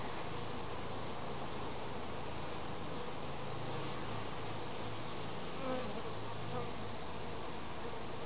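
Honeybees hum in a dense, continuous drone during a hive inspection, loud and close around the open hive with no pauses, and nobody talks.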